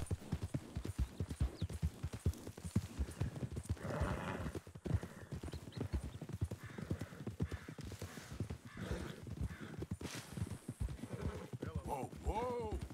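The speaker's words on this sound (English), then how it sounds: "Wild horses." Wild horses in Red Dead Redemption 2 gallop in a rapid, steady clatter of hooves with occasional whinnies over an outdoor game soundscape, while people talk over much of it.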